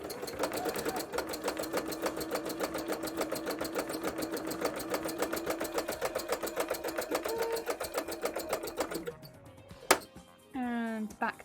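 A sewing machine running steadily on a zigzag stitch, a close, even mechanical chatter lasting several seconds before it stops, followed by a few small clicks and handling noises.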